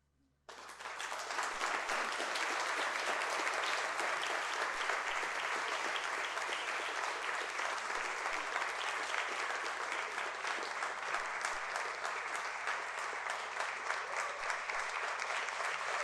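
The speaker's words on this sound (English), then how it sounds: "Well deserving that wild applause, Mr. Gardner" Loud, sustained applause from a conference audience after a speech on nature-positive incentives, bursting in abruptly after a moment of quiet and continuing evenly without letup.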